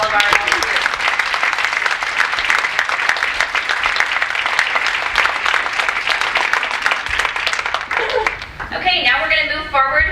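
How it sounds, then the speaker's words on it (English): Loud, sustained applause from an audience honouring volunteers at a breakfast event, dense clapping filling most of the clip before a voice begins speaking near the end. "How about a round of applause for all of our volunteers?"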